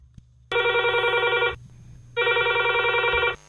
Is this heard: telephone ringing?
yes